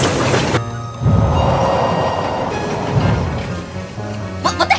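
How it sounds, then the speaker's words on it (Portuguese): Train rumble and rolling rail noise from a TV series scene, loud and steady throughout, with a heavier onset after the first second and clattering near the end; voices are briefly present. "Talos leva, então, Nick Fury para um trem."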